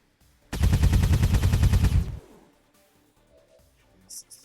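Shooting at a turret in XCOM 2 with the Long War of the Chosen mod: a loud, rapid automatic burst of about twenty evenly spaced shots lasting over a second, then a quiet tail with faint game effects.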